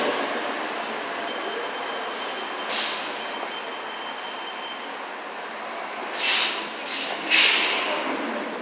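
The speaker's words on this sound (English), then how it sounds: "This is one of the most busiest bus stations here." Traffic rumbles steadily through a busy bus station in Dudley Square, broken by a few short loud hissing bursts like air brakes or a passing rail car. The bursts come near the third second and again between the sixth and eighth seconds.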